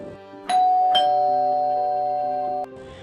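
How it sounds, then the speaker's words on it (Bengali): A two-tone doorbell chimes once indoors, a clear ding-dong whose tones ring on and sustain for about two seconds before cutting off. "হঠাৎ কলিং বেলটা বেজে উঠল।"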